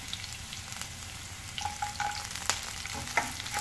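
Ginger and garlic fry in hot oil with a steady, close sizzle and a few light stirring clicks and pops, heard alone without speech.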